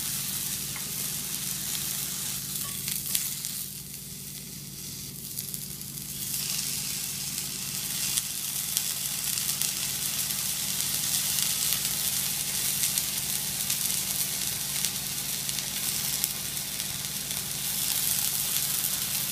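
Blewit mushrooms dry sauté in a hot pan with a steady close sizzle and hiss, dipping briefly then rising louder and staying constant, with no talking.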